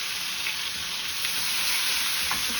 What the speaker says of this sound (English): You get that nice sear on there.